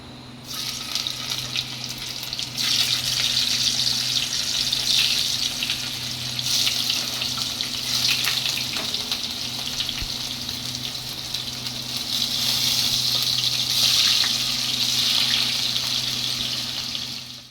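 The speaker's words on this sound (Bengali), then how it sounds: "এবার আমি সাদা তেলে পনিরগুলোকে লাল লাল করে ভেজে নেব।" Cubes of paneer frying in white oil for paneer masala: a steady, bright hiss of bubbling oil that runs continuously at moderate volume over a low background hum.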